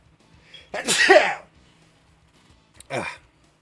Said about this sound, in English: Sneeze alert.